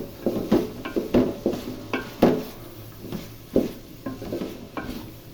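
Beef and long beans stir-fried in a pan over medium heat for hakka noodles, with repeated scraping stirs and clinks of a utensil against the pan over a low sizzle, close and steady.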